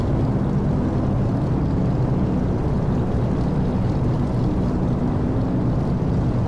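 DC-3 twin radial piston engines run at full throttle in a flight simulator, a loud, steady, unbroken drone with heavy low rumble lasting throughout, no voices.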